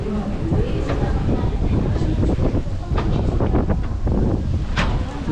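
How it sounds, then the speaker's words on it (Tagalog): Strong wind buffets the microphone at the top of the Regina Rica shrine beside the Mama Mary statue, a steady roaring rush with gusty swells throughout and no clear talk. "Lakas ng hangin din sa taas."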